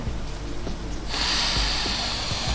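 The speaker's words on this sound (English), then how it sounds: "Wow, you took a deep inhale." A deep, drawn-out sniffing inhale through the nose while smelling a pumpkin pie, close and breathy, rising into a long hiss of air.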